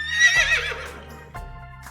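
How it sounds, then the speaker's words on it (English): A horse neighs loudly in a single high, shaky whinny that fades out, followed by a soft thud. "Horses say, neigh neigh."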